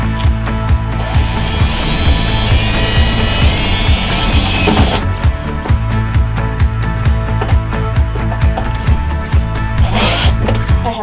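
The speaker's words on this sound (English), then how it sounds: "I have the drill in reverse" A power drill runs in reverse while working in a box van bathroom, a loud close motor whine with repeated grinding bursts and rhythmic clicking pulses, briefly dropping off midway before restarting.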